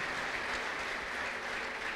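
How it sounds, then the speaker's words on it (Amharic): A church congregation gives ululation and applause, a dense continuous roar of clapping and high trilling voices blended together, steady and somewhat distant for the whole stretch. "ለጌታ ከፍ ያለ እልልታና ጭብጨባ።"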